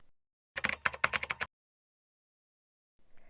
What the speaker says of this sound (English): Enter your password and click OK to submit.